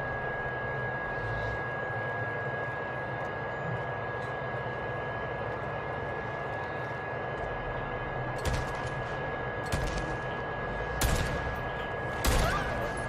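Rifle shots in the video game Days Gone: several sharp cracks spaced a second or so apart, ringing out over a steady droning background hum.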